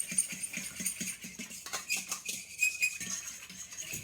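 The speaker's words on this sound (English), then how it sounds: "you just need to break up your yeast and agitate it a bit" Yeast for bread dough being broken up and agitated in a bowl without a whisk, producing a quick, regular series of soft scraping and tapping strokes, fairly close, followed by a brief clatter.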